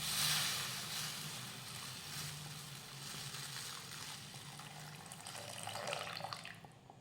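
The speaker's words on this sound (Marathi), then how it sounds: "तर मी यामध्ये दोन ग्लास गरम पाणी घातलेलं आहे" Hot water poured from a glass into Khandeshi shev bhaji curry in a pot, a soft continuous pouring and splashing that tails off toward the end, quiet and close.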